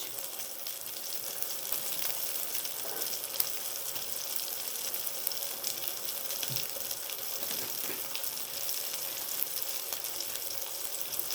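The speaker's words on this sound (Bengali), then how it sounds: "যতক্ষণ সসেজটা একটু ভাজা ভাজা হচ্ছে" Chicken sausage frying in a pan, a steady soft hiss of fat running unbroken and fairly quiet, with a few faint clinks and scrapes and no talking.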